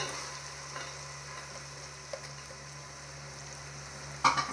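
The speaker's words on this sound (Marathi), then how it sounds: "आणि आता आपण टाकूया कांदा। कांदा टाकूया" Onion frying in a pan for chicken dum biryani, a quiet steady sizzle with a few faint stirring knocks and a sharper clatter near the end, close by and without voices.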